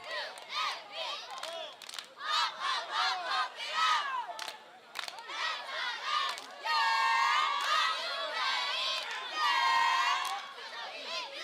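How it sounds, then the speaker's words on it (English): Fans at a youth football championship game scream and shout in bursts, a crowd of high, excited voices rising into sustained yelling near the end. "You can hear the fans screaming, kick the ball again"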